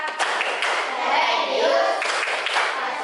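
Group performing the rhythmic PPK clap chant in a classroom teaching session, a short patterned sequence of hand claps and taps with young voices mixed in, close and fairly loud.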